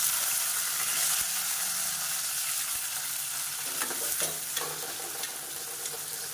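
About thirty halved small onions sauté in hot oil with fennel and curry leaves for chicken varuval, giving a steady close sizzle with a few scraping stirs of the pan.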